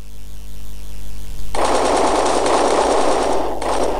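Rapid machine gun fire from a Minecraft Transformer mod game bursts in after a low background hum and rattles continuously and loudly, with a brief break before the firing resumes.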